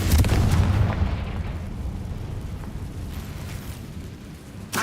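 A Confringo fire spell blast in Hogwarts Legacy erupts as a loud, sustained roaring boom that fills the opening second, then rumbles and fades into a long crackling tail, with a fresh burst at the very end.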